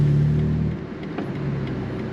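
A modified BMW G80 M3 exhaust drones while driving in normal mode, a steady low engine hum that dips in pitch and settles to a mellow cruise, heard from inside the car.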